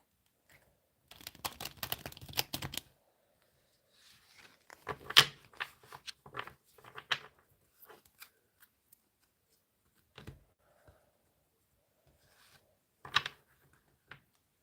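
Tarot cards being shuffled in quiet bursts of crisp riffling and slapping, a long cluster near the start and another in the middle, then a few isolated taps and flicks with near silence between.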